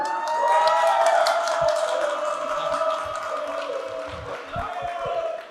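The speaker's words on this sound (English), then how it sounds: "Round of applause, please." Wedding guests at a Lake Tahoe reception break into sustained applause and light cheering for the best man, a dense, steady clapping wash that holds loud for several seconds and then gradually thins out.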